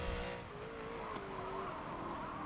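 High-pitched whining race car engine in Forza 7 A-class racing, a sustained tone drifting slightly in pitch, steady and moderately loud with faint tire noise underneath.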